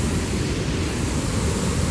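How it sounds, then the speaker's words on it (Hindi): A swollen mountain stream rushes beneath a bridge near a landslide on the Shrikhand Mahadev trek, a loud, steady broadband roar of water with no voices. "पूरा बहाव है नाले का।"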